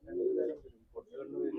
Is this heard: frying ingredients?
no